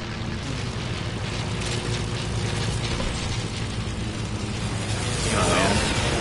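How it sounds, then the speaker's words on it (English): Propeller airplane droning steadily overhead in a battle royale video game, a continuous low rumble with a mechanical rattle that swells slightly toward the end. "Plane's coming."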